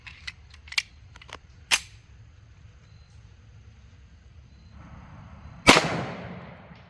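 A Remington R1 1911 pistol with a 5-inch barrel fires DoubleTap 200-grain .450 SMC ammunition at an outdoor range: one loud, sharp gunshot with a ringing decay, preceded by several small, sharp clicks.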